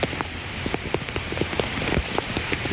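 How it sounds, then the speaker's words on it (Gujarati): Heavy rain pours steadily, heard while cycling, with dense drops pattering and splashing on surfaces all around, no voices. "આજના ભારે વરસાદમાં તમે જોઈ શકો છો ભયંકર વાતાવરણ"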